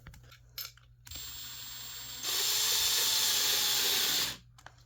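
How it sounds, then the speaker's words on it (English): A cordless drill driving screws into a filing cabinet nightstand whirs briefly, then runs longer and louder at a steady pitch for about two seconds before stopping, close by. "I'm going to be using the drill just to make my life easier and faster"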